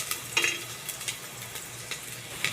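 Onions fry lightly in a pan for a vegetable dish. A soft, steady sizzle runs under occasional scrapes of stirring.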